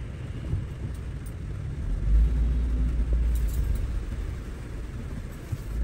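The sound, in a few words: traffic passing in the rain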